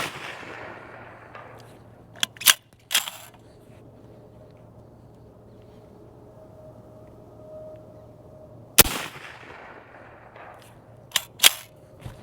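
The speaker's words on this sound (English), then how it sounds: "I'll run the rest of whatever I have in this magazine on that target" Suppressed gunshots from a bolt-action pistol chambered in .338 ARC, several sharp cracks spaced seconds apart with a pair close together near the end, separated by quiet outdoor background.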